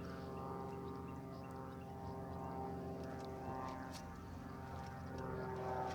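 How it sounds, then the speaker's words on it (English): A propeller airplane climbs overhead after takeoff from a nearby airport beside a fishing cove, its engine a steady, faint drone throughout. "And there's the airplane that took off earlier."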